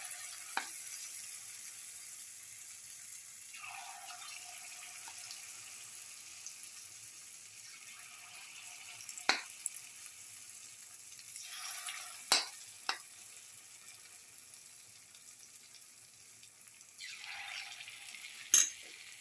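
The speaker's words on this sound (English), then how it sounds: "And let it fry." Banana, date and wheat fritters frying in hot oil, a soft steady sizzle with brief louder crackling bursts and a few sharp pops, faint and close, with no talking.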